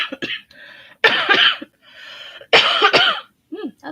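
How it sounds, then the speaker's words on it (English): Several wet, gunky coughs come in quick bursts close to the microphone, with short rasping throat sounds and breaths between them. "That's the most I've had of gunky cough."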